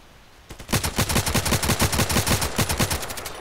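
Gunfire in the shooter game Contract Wars: a rapid automatic burst of roughly twenty evenly spaced, loud, close shots starts after a half-second lull and runs to the end, with no talk.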